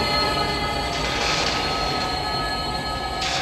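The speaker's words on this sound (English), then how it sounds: "we suddenly see a train just barreling towards him" A train barrels past in the 1990 film Jacob's Ladder, a loud, continuous rumble of wheels and cars with a high squeal riding over it.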